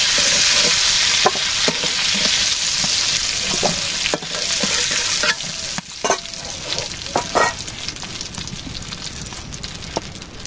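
Potatoes fry in hot oil in a village kitchen, a loud constant sizzle that eases after a few seconds, broken by repeated scraping and clattering stirs, close up with no speech.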